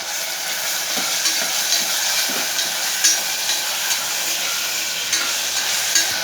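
Ginger garlic paste frying in a pan gives a loud, continuous sizzle, broken by soft scraping stir strokes and light clinks at intervals, with no voices.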